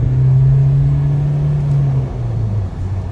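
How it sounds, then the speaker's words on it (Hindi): A 2021 Mahindra Scorpio S5 SUV accelerating in a pickup test, its engine droning steadily from inside the cabin, then the pitch drops briefly at each gear change and climbs again. "सो भाई एक बार इसका पिकअप का टेस्ट कर लेते हैं, छोटा सा एक्सेलरेशन टेस्ट नहीं है, नॉर्मल एक बार पावर देखेंगे कैसी है"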